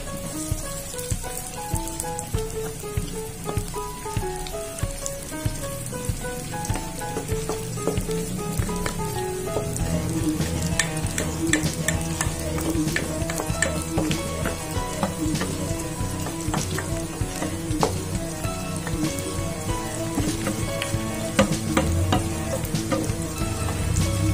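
Corn kernels frying in a pan with sautéed onion and garlic, a dense continuous sizzle and crackle, loud and close, with light stirring clatter throughout and no voices.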